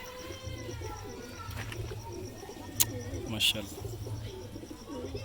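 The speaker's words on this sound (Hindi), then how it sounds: "सबसे पहले राणा भाई टैडी कबूतर पकड़ें।" Teddy pigeons give soft, low repeated coos close by, with a voice speaking briefly among the birds.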